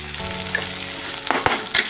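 Ginger-garlic paste and spices sizzle steadily in a hot pan for a Bengali egg tadka, with a few sharp stirring scrapes and clinks toward the end, close and fairly loud with no talking.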